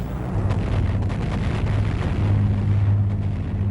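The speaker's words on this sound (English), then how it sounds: "the bombers had to fly through a dense barrage of exploding shells from the German flak batteries" German flak shells bursting around Lancaster bombers, heard as a dense, continuous rumble of overlapping booms and low roar with no clear gaps, loud throughout.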